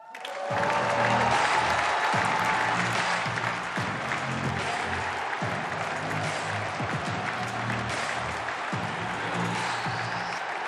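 Audience at the FIFA Women's World Cup draw ceremony breaking into sustained applause with some cheering, a dense, even wash of clapping lasting about ten seconds in a large hall.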